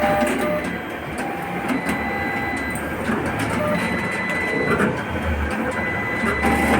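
A cash recycler machine initializing and checking its modules gives off a steady mechanical whirring and rumbling hum, with small clicks and tones over it, continuous and fairly close.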